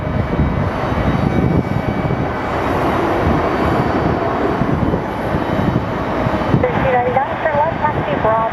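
US Airways airliner in Heritage livery pushing back at Phoenix Sky Harbor airport, a steady loud jet engine roar and hiss filling the whole stretch, with a voice briefly heard over it.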